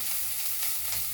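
Onion fries in a pan with ginger-garlic paste, turmeric and salt, a dense, even hiss of sizzling oil heard up close with no talking.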